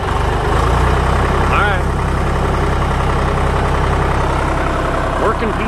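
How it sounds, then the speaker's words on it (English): A John Deere 1520 tractor runs its PTO with a loud, steady engine drone close by, while someone speaks briefly over it. "we're going to show you this PTO working here on this. And as you can see, there she goes."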